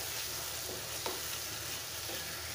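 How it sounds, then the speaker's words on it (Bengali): A spice paste of ginger, garlic, cumin and turmeric frying in oil, giving off a dense, continuous crackling sizzle up close with faint stirring underneath, no voices. "মশলাটা কষানো হয়ে গেছে"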